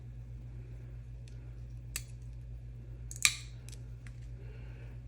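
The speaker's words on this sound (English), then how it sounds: "I'm gonna cut here and just kind of hack off the corners." Mosaic glass nippers cut glass petals for a floral mosaic kit, hacking off corners: a few sharp isolated snaps and clicks, one distinctly louder crack, over a quiet steady hum.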